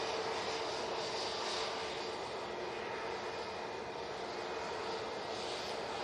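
A Pegasus Airbus A320neo at Manchester Airport gives off a steady, moderately loud engine roar with a broad hiss, holding even for several seconds with no voices.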